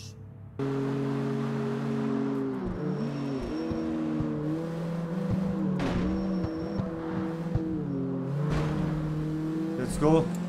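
A Honda Civic engine in CarX Street revs and climbs through the gears with tonal whine and drops between shifts, loud and steady for the whole stretch, with a few brief thumps.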